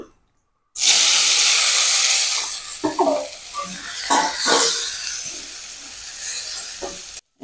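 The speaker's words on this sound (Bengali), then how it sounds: "তেল গরম হয়ে গেছে, দেবো গোটা জিরে। এবার দিয়ে দেবো সেই সেদ্ধ আলু।" Boiled potatoes and whole cumin seeds hitting hot mustard oil in a kadai give a loud, steady sizzle and hiss that starts abruptly, with a few stirring clatters partway through before the frying settles into a softer crackle.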